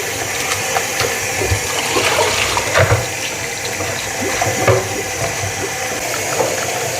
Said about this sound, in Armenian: Ամել հոսող ջրի տակ մի հատ լավ լվանա